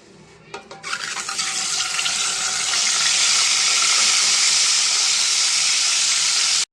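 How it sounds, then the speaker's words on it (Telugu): Boiled eggs dropped into hot oil with turmeric, starting with a few sharp crackles and then building into a loud, steady sizzling hiss from close by, with no talking. "ఇప్పుడు వీటిని ఫ్రై చేద్దామండి ఎగ్స్ని. ఇంకోండి ఆయిల్ వేడైంది. దీంట్లో కొంచెం పసుపు వేసాను."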